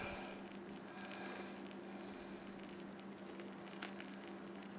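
Faint, steady sizzling crackle of hot chicken in a portable heated lunch box, close, with a constant low electrical hum underneath and no talk.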